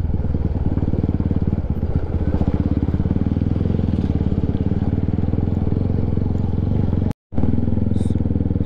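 A motorcycle with worn, bald tyres rides along a rough, damaged mountain road. The engine drones steadily up close with rattling and clatter, and there is one brief dropout near the end.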